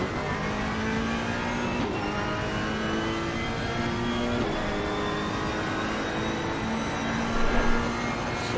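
Ferrari GT3 race car in Assetto Corsa Competizione at Suzuka, its engine droning steadily at high revs with rising pitch sweeps as it accelerates through the gears, loud and continuous throughout with no speech.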